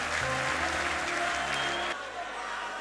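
A church congregation at a youth conference claps loudly and steadily throughout, dense applause that cuts down somewhat near the end, with a voice and music sustained faintly underneath.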